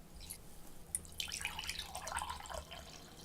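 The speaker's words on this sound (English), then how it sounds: "Let's pour a couple of cups of coffee here." Coffee poured into a couple of cups, a soft, faint trickle and splatter building over about three seconds in a quiet room.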